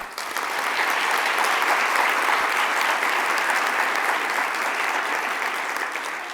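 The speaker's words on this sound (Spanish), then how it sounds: "para quien pido un fuerte aplauso" Loud, sustained audience applause at the inauguration of an international distance-education conference, dense clapping from a large crowd filling the hall continuously throughout without pause.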